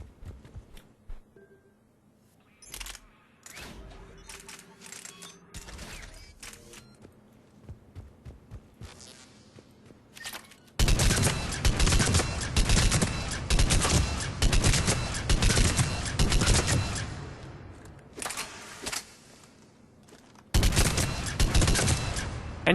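Argus rifle firing three-round bursts in the shooter game Mass Effect 3, sharp repeated cracks spaced irregularly at first, then dense rapid volleys dominating the middle and end, loud and close.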